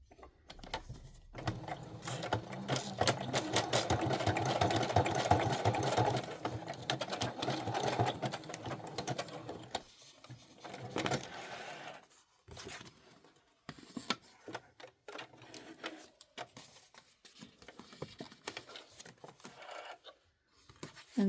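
A sewing machine stitches trim onto a junk journal page for a Christmas candy box project, running in a steady dense burst for several seconds, then continuing in shorter intermittent runs with pauses between stitches.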